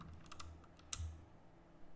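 Keystrokes on a computer keyboard while entering database commands during an Ubuntu web server setup, a few quiet, separated taps with one sharper click near the middle, no talking.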